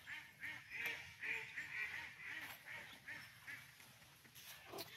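A flock of water birds in a park in Guernsey calls continuously, honking and quacking in overlapping bursts, moderately close and fairly quiet, with no speech over them.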